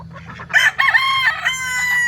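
A Kelso gamecock rooster crows once, close and loud, a drawn-out strained call lasting about a second and a half over steady low background hum.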